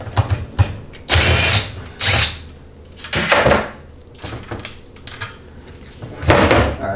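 A power tool whirs in three short, loud bursts, loosening bolts on a Dodge 68RFE transmission, including the bolt holding the solenoid pack, with quieter handling clatter between the bursts.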